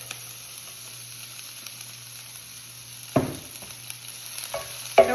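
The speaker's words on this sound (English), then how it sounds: "So we're just gonna saute this until that cabbage gets soft" Coleslaw mix and chopped green onions sauté in oil in an iron skillet, a steady soft sizzle with a low constant hum beneath and a few sharp stirring clanks toward the end, no voices.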